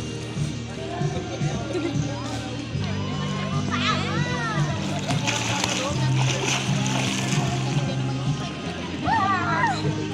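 An 80-year-old woman swims in a pool, her strokes splashing and sloshing water steadily throughout, while children and other people talk and shout nearby over the splashing.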